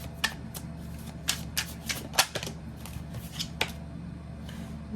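Crisp bursts of new tarot cards being shuffled, several quick riffles spaced across the clip over a low background hum.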